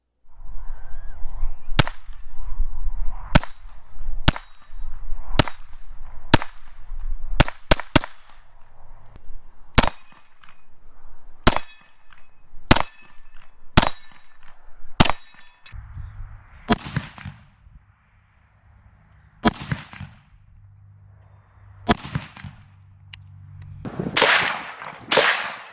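Pistol shots at an outdoor range, sharp cracks fired one after another at irregular intervals, some ringing off steel targets, with a few louder rumbling reports toward the end.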